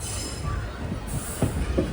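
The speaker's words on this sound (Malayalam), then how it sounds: "ആ കാണുന്നതാണ് നെല്ലൈ സൂപ്പർ ഫാസ്റ്റ്" The Nellai Superfast Express rolls past on the line between Tirunelveli and Kanniyakumari in Tamil Nadu in the morning, a steady rumble of wheels with brief squeals and thumps, fairly close and without talk.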